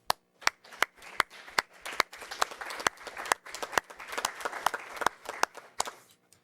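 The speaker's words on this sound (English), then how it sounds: "all of us are going to clap for you." A school board meeting audience claps throughout, with sharp, distinct claps spread out at first, then growing into denser, overlapping clapping before thinning again.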